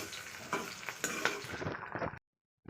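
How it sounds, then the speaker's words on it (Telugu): Green chillies deep frying in hot oil for a tomato chutney, a dense close crackling sizzle with a few stir clinks, running steadily before cutting to silence near the end. "ఆయిల్లోనే మంచిగా డీప్ ఫ్రై అయితే అవుతాయి అనమాట చిల్లీ అయితే"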